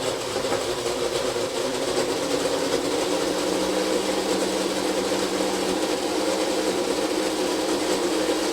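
Blender pureeing a mint and tahini dressing with chopped mint leaves, a steady continuous whirring hum running throughout at moderate loudness, with no talk.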